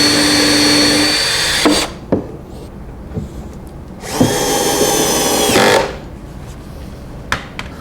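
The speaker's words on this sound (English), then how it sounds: "I can just drill some holes for some screws to permanently attach it." Power drill boring screw holes through a shop storage cabinet drawer, two loud sustained whirring bursts separated by quieter pauses with a few sharp clicks and knocks, close by with no talk.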